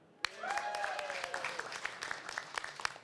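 Crowd at a London tech pitch event cheers and claps for a competing team, a brief burst of shouting that fades while moderate, fairly even applause continues with a few sharper claps.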